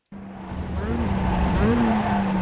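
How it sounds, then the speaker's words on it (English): An MX-5 Cup race car in the iRacing game on the COTA circuit brakes hard and downshifts toward second gear, a sustained engine drone with rising blips and tyre squeal, close and loud with no talk. "Go ahead and shift all the way down to second gear."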